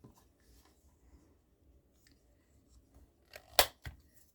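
Scissors cut through thick craft pieces: a faint, quiet stretch, then a few sharp, close snips in quick succession near the end.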